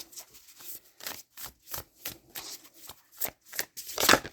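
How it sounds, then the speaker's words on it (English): Tarot cards are shuffled by hand in rapid riffling bursts, a rhythmic series of papery flicks that builds to a louder slap as a card is drawn, close and without talk. "Let's get one more card here."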